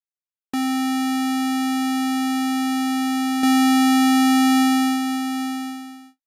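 A VCV Rack modular synth oscillator plays a square wave tone routed through a VCA, a single steady buzzy pitch that holds for several seconds, steps slightly louder midway, then fades out.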